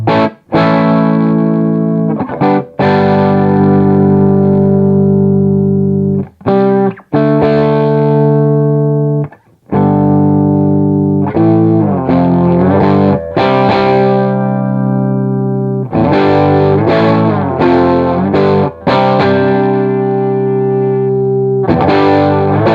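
Electric guitar through a 1967 Marshall Super Lead amplifier turned all the way up, loud driven chords and lead phrases with brief pauses between bursts, close and sustained.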